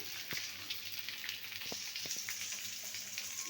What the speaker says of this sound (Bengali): একটু লাল করে বাইজা নিব পেঁয়াজ আর রসুনটা বাজাও